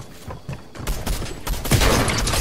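Rapid bursts of Charge SMG gunfire in a video game, loud and close, with dense crackling shots and impacts building in intensity over a couple of seconds.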